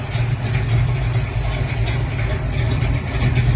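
A big-block V8 muscle car idles up close, a deep, steady low rumble with a slight lope and no revving, alone and without talk.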